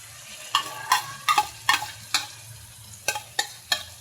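Shrimp paste (bagoong alamang) with garlic being stirred in a pan, a series of about ten sharp scraping strokes over a low steady hum, close and alone without talk.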